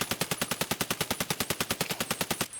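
RD-704 rifle fired full auto from a crouch in a video game, a fast, even burst of about two dozen sharp loud shots that stops abruptly.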